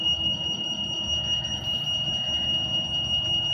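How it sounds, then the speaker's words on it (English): A fire alarm system model, triggered by a hack, sounds a continuous high-pitched electronic tone, steady and piercing over a low background rumble, with no talk. "as you can see that alarm is running over there"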